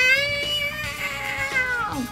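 A cat stuck up in a big old building gives a long, wavering meow that slides downward in pitch at the end. It is loud and close, with nothing else competing.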